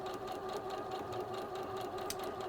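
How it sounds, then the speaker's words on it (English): A sewing machine stitches a quarter-inch quilt seam, running at a steady, even whirring hum that is close and continuous from start to finish. "let me just sew this seam along here"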